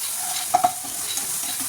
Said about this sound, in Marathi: हे सर्व मिश्रण छानसं परतून घ्यायचं आहे आपल्याला